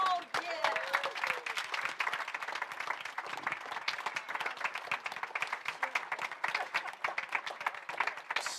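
Sustained applause from a crowd at a fundraising dinner as house moms stand, steady dense clapping throughout at moderate distance with no pause.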